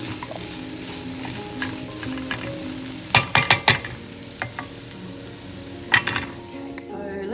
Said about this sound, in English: just let that cook away there until those onions are nice and soft